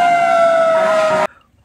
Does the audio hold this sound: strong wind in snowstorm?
no